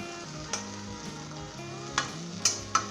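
Tomatoes cooking in a pan over medium heat for boondi salan sizzle softly, with a few sharp spoon scrapes and knocks as they are stirred, over a faint tonal hum.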